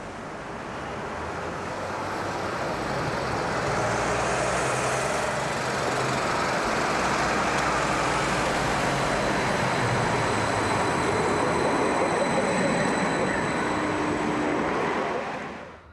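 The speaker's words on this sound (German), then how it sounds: "Hier der neue Zug auf Probefahrt." Cologne Stadtbahn K5000 light rail train on a test run, a steady rolling rumble of wheels on track that swells as it passes nearby, with faint high squeals, then fades out at the end.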